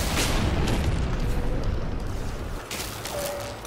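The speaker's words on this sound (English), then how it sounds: "Something's shooting me." Gunfire and booming blasts in the video game No Man's Sky, a loud dense rumble with repeated shot impacts that eases slightly toward the end, heard without speech.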